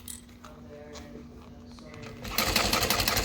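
A sewing machine stitches a backpack strap without a backstitch at the start. Quiet fabric handling and clicks come first, then a loud, fast run of stitching fills the final second up close.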